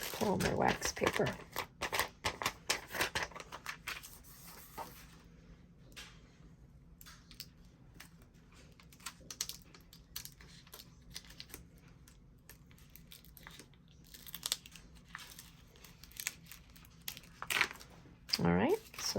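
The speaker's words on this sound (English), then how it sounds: "pull my wax paper." Wax paper peeled away from a vinyl decal layer, giving soft crinkling and crackling rustles in bursts, with quieter handling in between and a sharper crinkle near the end; a person talks over parts of it.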